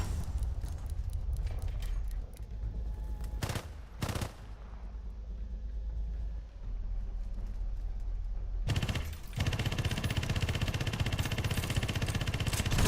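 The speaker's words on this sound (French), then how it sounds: "Et c'est pas une mitrailleuse, c'est un canon." A 20 mm cannon fires in War Thunder in loud rapid bursts of repeated shots, with a short pause before a second long barrage under a constant rumble of battle noise.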